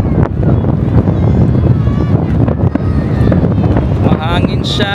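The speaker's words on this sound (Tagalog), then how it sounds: "Ang hangin lang, ang hangin." Strong wind buffets the microphone in a loud, steady roar at a New Year fireworks display in Manama, Bahrain, with people talking underneath and faint fireworks popping in the distance.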